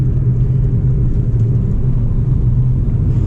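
A Honda Amaze diesel engine revs loudly and steadily at close range, a deep constant rumble with no clear rise or fall in pitch.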